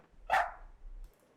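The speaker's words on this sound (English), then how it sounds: "Puppy dog." A single sharp dog bark rings out in a fishing video game set in the Arctic, clear and fairly close over a low steady hum, with no talking.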